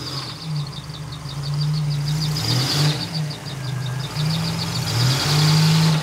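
A Buick Grand National engine runs steadily in drive close by, its low drone rising and dipping slightly, with a faint rhythmic ticking above it.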